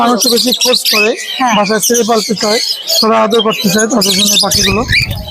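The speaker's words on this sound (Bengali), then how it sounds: "নাহার আপুর পাখির সেটাবে আজকে চমৎকার কিছু পাখি রয়েছে" Parrots and other caged birds at the Mirpur 1 bird market in Dhaka squawk and chirp loudly and almost continuously in a busy run of harsh, warbling calls close by.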